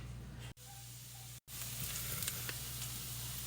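Onion, garlic and ginger sizzling in a pan for homemade sesame chicken: a steady, close hiss of frying broken by two brief dropouts.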